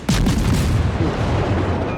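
Rear turrets of the Italian cruiser Raimondo Montecuccoli firing in World of Warships, a loud booming salvo at close range with a long rumbling roar that fills the whole moment.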